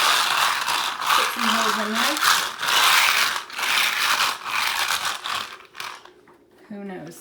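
A small wallpaper scorer rolls across a wallpapered wall with a dense, rapid ratcheting and crackling that comes in repeated strokes, close and fairly loud, while a person speaks briefly between passes.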